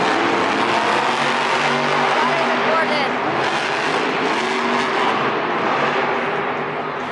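Monster Jam monster trucks race in a semi-final round at an arena event in Detroit, their engines roaring loudly and continuously with a crowd-filled arena din beneath.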